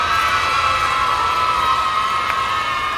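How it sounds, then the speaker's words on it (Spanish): A crowd of children cheers and shouts continuously at a lively event in Tlaxcala, a steady dense roar of young voices with no single voice standing out. "Aplaudiendo y gritando."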